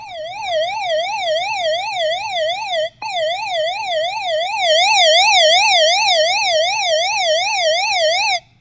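A TEMU emergency NOAA radio in SOS mode sounds a loud electronic siren, a fast continuous wail rising and falling, briefly cutting out once, then resuming steadily up close.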